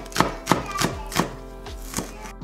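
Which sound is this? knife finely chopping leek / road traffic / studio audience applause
knife finely chopping leek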